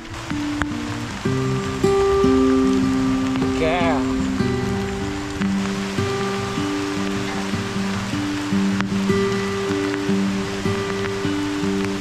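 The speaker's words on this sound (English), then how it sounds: "Can you not see that it's raining?" Steady rain patters and hisses on a surface throughout, with soft tonal music-like notes running beneath it.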